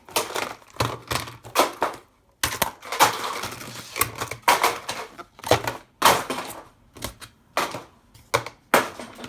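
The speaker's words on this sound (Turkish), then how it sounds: "Şimdi şu boş olan kalem kaplarını yere atacağım." Empty pen holders are thrown onto the floor while a desk is being tidied, making a rapid series of close, sharp clattering impacts and rattles in irregular bursts with short pauses between them.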